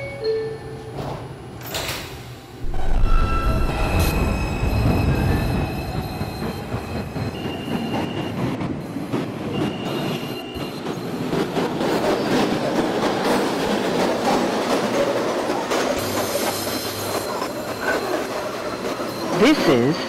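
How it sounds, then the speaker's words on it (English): A New York City subway 2 train running between stations under Manhattan, with a loud steady rumble of wheels on track, clattering rail joints and brief metallic squeals, plus an onboard announcement chime near the start. "This is a Manhattan-bound 2 train."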